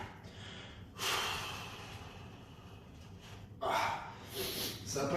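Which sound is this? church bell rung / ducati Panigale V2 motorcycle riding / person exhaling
person exhaling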